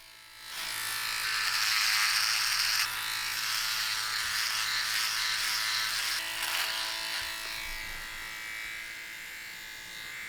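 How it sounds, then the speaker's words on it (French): An electric razor shaves with a steady, high-pitched buzz that stays loud and close for about ten seconds, its tone shifting slightly as it moves across the face. "Mais peut-être parce que ton rasoir, il fait trop de bruit."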